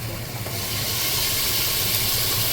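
Tomatoes hit a hot pan while cooking Kolkata-style chicken biryani, giving a continuous, even sizzling hiss that swells slightly and holds steady, close and fairly loud.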